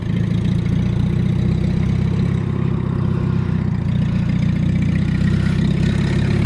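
A WWII Jeep engine runs close and loud, a steady, unbroken drone that holds level as the vehicle pulls through a gear change into second, with no voices over it.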